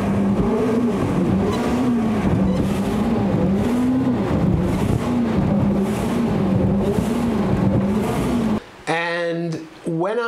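Outboard motor boat fitted with a hydrofoil, throttle pressed repeatedly in bunny hops so the bow lifts, giving a steady loud engine drone that rises and falls in waves, ending with a brief warbling whine as the revs surge.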